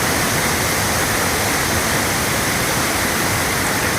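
Wind blows steadily outdoors at a fishing spot, a loud, constant broadband rush that fills the whole stretch with no breaks and no voices.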